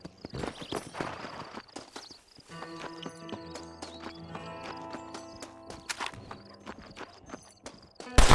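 Horse hooves clip-clop at a trot in the open-world Western game Red Dead Redemption, a steady rhythmic patter of hoofbeats with an occasional whinny over ambient game music, fairly close and moderately loud.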